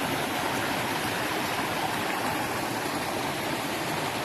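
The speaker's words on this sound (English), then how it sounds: "we just seem to find these nice spots to have our lunch by a little waterfall here that you can see running all the way down there" A small waterfall on the Appalachian Trail rushes in a steady, close, even wash of falling water, unbroken throughout with no voices.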